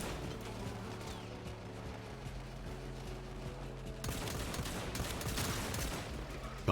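Dense gunfire and mechanical clatter from a Warframe firefight, continuous and busy, growing louder and more intense in the second half with rapid overlapping shots.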